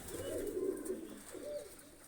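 Soft, low pigeon cooing, a couple of rounded coo phrases close by, with faint background hiss and no voices.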